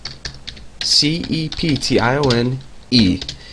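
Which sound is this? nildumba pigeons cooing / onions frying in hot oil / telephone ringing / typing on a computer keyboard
typing on a computer keyboard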